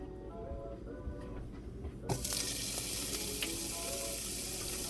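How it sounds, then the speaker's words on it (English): Shrimp hit a hot pan for MAMA Pad Thai instant noodles and start to fry. A steady hiss rises suddenly to a louder, broad sizzle that carries on close up with no voice. "Okay, so we do up the shrimp for a little bit."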